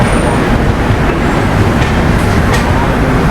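A train pulling out of Rajahmundry station on the Ratnachal Express run, heard from inside a coach as a loud, continuous rumble and rattle of wheels and carriage, with no speech over it.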